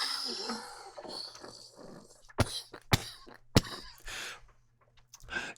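Coughing during a cannabis session: after some quiet breathy sounds, three sharp, close coughs come about half a second apart, followed by softer throat noises.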